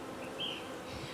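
Honey bees hum around an opened, quickly expanding beehive where a little smoke is being used, a steady close drone with a brief brighter swell of buzzing in the middle.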